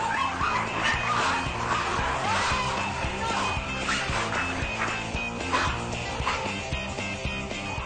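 Small Chihuahuas bark and yip aggressively at a bulldog, a dense, steady run of overlapping barks and yelps close by with no pauses.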